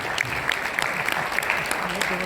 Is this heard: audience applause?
yes